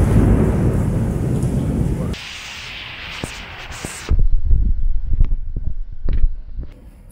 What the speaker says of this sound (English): This storm is super wild.